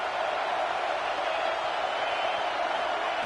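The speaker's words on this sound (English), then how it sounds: "This crowd knows when to bring it." Broad, steady roar of a stadium crowd in an American football video game, loud and continuous with no pauses, like a sustained wash of cheering and noise.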